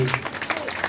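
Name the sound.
applause for Vijay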